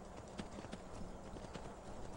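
Horse hooves clip-clop at a steady trot in Skyrim, a rhythmic run of hollow thuds under a bed of game noise, fairly close and continuous.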